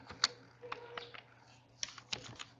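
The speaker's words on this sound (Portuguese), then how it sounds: "Vou digitar o valor" Quiet typing on a computer keyboard while entering a value into an Excel cell, with scattered individual key clicks in an irregular rhythm and no talking.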